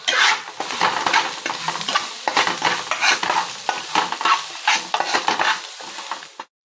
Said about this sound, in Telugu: ఇప్పుడు మసాలా వేసుకోవాలి వేసి కలుపుకోవాలి